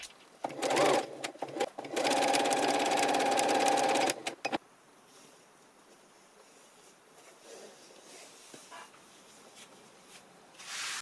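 Close and loud, a sewing machine topstitches fabric on a laptop sleeve in two short bursts, a brief stutter and then a steady rapid run of about two seconds that stops abruptly, followed by quiet room noise and faint handling.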